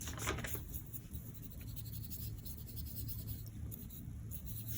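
A brush rubs graphite across paper in soft, continuous close-up scratchy strokes, quiet and steady, with no talking.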